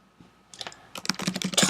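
Quick keystrokes on a computer keyboard as names are typed out, starting with a few sparse clicks and then building into a dense, louder burst of close-up tapping.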